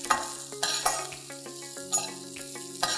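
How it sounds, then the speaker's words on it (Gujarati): Thick pieces of ivy gourd (tindora) sauté in hot oil, giving a soft sizzle broken by a handful of sharp clinks and scrapes as a spoon stirs them against the pan. "1 કપ ટિંડોળા લીધા છે, એને આપણે તેલમાં 1-2 મિનિટ માટે સાંતળી લઈશું."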